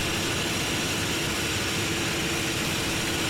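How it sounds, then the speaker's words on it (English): Airliner jet engines roaring at throttle-up in Flight Simulator 2024 over London: a steady, dense, unbroken roar with a low rumble, loud and constant throughout and with no voices. "we'll finish off by throttling up and we'll gain some altitude here. And listening to the roar of those engines."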